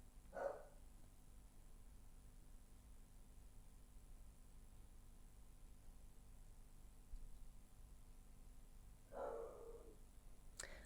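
A dog barks at the mailman indoors, two short distant barks separated by several seconds of quiet room tone.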